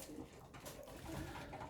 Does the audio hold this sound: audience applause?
no